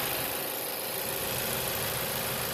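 2018 Chevy Malibu turbocharged engine idles in a steady, loud, unbroken drone, close up with no talk over it.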